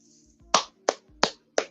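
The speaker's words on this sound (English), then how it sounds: "slow clap for LEGO." A slow clap: four sharp, evenly spaced hand claps about a third of a second apart, close and alone with no talking.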